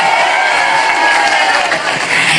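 A crowd at an Islamic sermon gathering in Langensari applauds and cheers in a dense, steady roar, loud and close throughout, with no single claps standing out.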